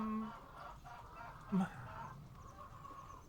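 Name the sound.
chickens clucking on a webcam Twitch stream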